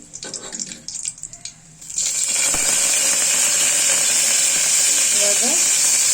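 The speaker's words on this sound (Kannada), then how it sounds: "ಸ್ವಲ್ಪ ಸಾಸಿವೆ ಚಟಪಟ ಅನ್ನೋವರೆಗೂ ಬಿಡಬೇಕು." Mustard seeds, curry leaves and garlic crackle and sizzle in hot oil for a black-eyed pea dal sambar tempering, a loud, steady hiss with popping taking over after a couple of seconds of quieter kitchen clatter.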